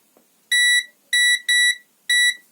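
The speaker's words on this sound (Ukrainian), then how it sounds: "Якщо включити режим продзвонки, то він буде дзвеніти між стоком та витоком в відкритому стані." A multimeter in continuity mode gives four sharp, loud electronic beeps, each short and clipped, with uneven gaps between them, as it tests across the drain and source of a switched-on transistor during a humidifier repair.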